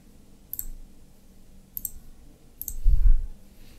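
Three sharp, faint mouse clicks land at spaced intervals while setting up CasaOS on a Raspberry Pi 4, with a low thump near the end and no voice.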